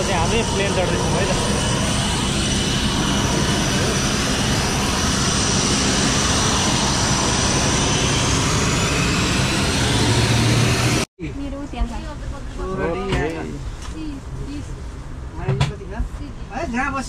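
Loud, steady airplane engine roar as passengers board a flight bound for Kathmandu, filling most of the stretch before cutting abruptly to quieter cabin ambience with people chatting.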